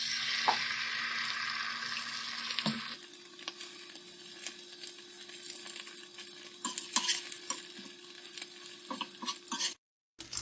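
An egg for a burger fries in oil on a tawa, giving a steady sizzle and crackle with occasional scraping, shifting softer partway through before cutting off abruptly near the end.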